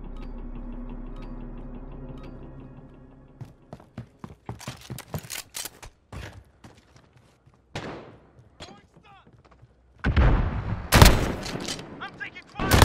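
Video game gunfire in Modern Warfare: sharp broadband shot bursts and volleys, scattered at first then a loud dense cluster near the end, mixed with other game effects and occasional voice chat.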